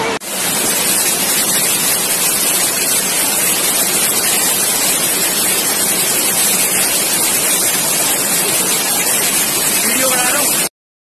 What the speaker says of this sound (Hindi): अभी मैं जयपुर के पास के झरना दिखा रहा हूँ